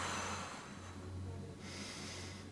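A slow, soft exhale through the mouth during a guided breathing exercise, close and faint, followed by a gentle intake.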